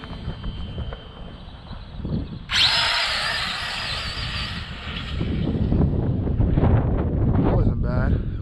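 An RC drag car launches at full throttle with a sudden loud, high, drill-like whine that holds steady for several seconds, over wind rumble and nearby voices.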